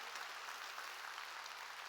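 Applause from a church congregation at a sermon, a steady wash of many hands clapping at moderate distance with no speech over it.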